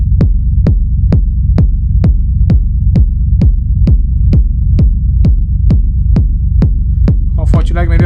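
Rumbling techno kick drum from an Elektron Analog Rytm, loud and steady: about seventeen deep booming hits at an even tempo with a sustained low rumble between them, with a short burst of other sound at the very end.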